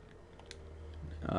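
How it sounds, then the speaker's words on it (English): Quick clicks of typing on a computer keyboard patter at close range, with a voice rising near the end. "Here, I'm typing in franchises I never play."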